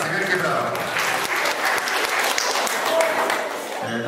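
Audience clapping after an item is sold at a school New Year's concert auction, a sustained round of applause with a voice speaking over it.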